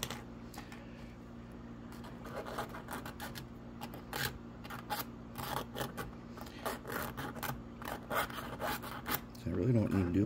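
Metal filing on a model train truck, quick dry rasping strokes in irregular bursts, close and fairly quiet, ending with a brief voice.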